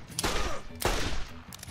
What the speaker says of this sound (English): I'm just gonna put some rounds into him